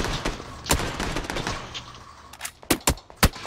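Tommy gun fire in a video game comes as bursts of rapid shots: a dense volley at first, then several sharp, loud single cracks close by toward the end.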